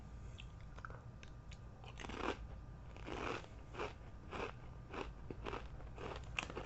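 Snack-size ranch-flavoured chips crunched close up, a series of sharp bites and chewing crunches that come in uneven bursts, with no talk.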